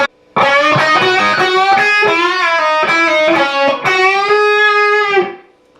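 A heavily distorted electric guitar plays a sustained lick from a song, mixing major and minor scale notes, with bends and shifting melodic notes, loud and continuous, no voices.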